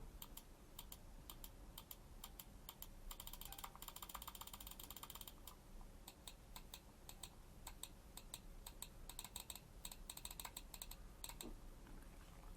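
Rapid bursts of sharp, dry clicks from an Attack Shark R1 computer mouse's buttons, closely spaced and fairly quiet, with short pauses between runs and no speech.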